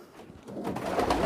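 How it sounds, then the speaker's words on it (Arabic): A pigeon at its nest gives a brief, low, soft coo that swells toward the end, heard close by. "نروح على الحمامه دي"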